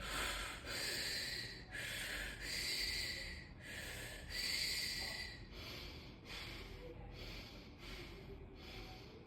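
Rhythmic, fairly close breathing during a trunk-twisting exercise, with about nine forceful nasal breaths, inhales and exhales alternating steadily and no talk.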